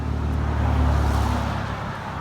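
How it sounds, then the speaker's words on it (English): A car on a nearby road passes with a swelling engine hum and tire roar that builds and fades, set against steady traffic noise on a windy afternoon. "And of course the traffic is noisy."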